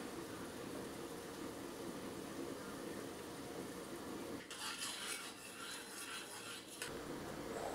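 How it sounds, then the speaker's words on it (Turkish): A food processor chops shredded kadayif dough with a quiet, continuous whirring and grinding rasp. Partway through, the sound brightens into a harsher, gritty rattle for a couple of seconds, then returns to the steady hum. "tel kadayıfımı rondodan geçiriyorum."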